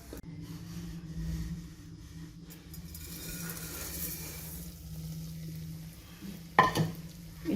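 Vermicelli cooks in a pan for kunafa with a soft, steady sizzle and stir, faint and close, ending in a sharp clink of a utensil against the pan.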